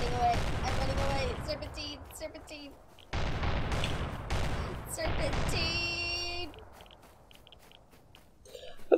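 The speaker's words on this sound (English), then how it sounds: "Oh, those are shots. Shots fired." Gunshots from the survival game Rust, in a naked battle royale match: several loud sharp bursts and cracks spread across the stretch, with a player talking over them and game effects between.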